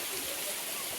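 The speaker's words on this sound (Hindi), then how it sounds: "ये देखो, ये ऊपर से आता हुआ झरना" A waterfall tumbling down from above beside a mountain road on the way from Phuntsholing to Thimphu in Bhutan gives a brief, broad, steady rushing hiss.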